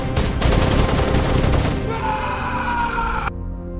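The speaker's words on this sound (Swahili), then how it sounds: "akapiga magoti na kuanza kufyatua risasi mwelelezo kuelekea kwenye boti hiyo iliyokuwa inapotea gizani" Rapid gunfire in a dramatized scene, shots fired toward a boat vanishing into the dark sea at night, a dense loud burst of repeated reports that fades into a ringing tone before cutting to near silence.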